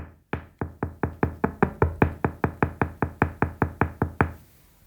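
Steady, firm knocking on a solid kail wood door in a newly built house: about eighteen evenly spaced, resonant thuds in quick succession, close and clear with no talk.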